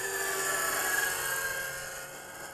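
A radio-controlled JR Vigor CS helicopter in forward flight gives a steady, loud whining buzz of rotor and engine that holds briefly, then eases slightly as it passes.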